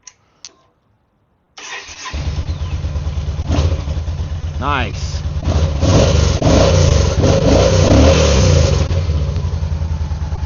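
After a couple of faint clicks, a crashed Yamaha V Star motorcycle engine cranks and catches, then runs loudly with a few quick revs rising and falling; a voice briefly speaks.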